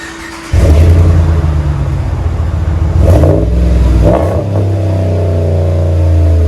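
A loud 5.7L HEMI V8 in a RAM 1500 pickup with a stainless steel exhaust fires up and revs hard twice, its deep exhaust rumble swelling and falling back to a throaty idle, no voices.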